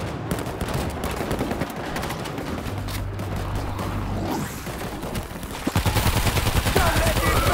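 Rapid gunfire from defensive gun emplacements in the video game World War Z, set in Marseille, a dense continuous stream of loud shots under chaotic game action, intensifying toward the end.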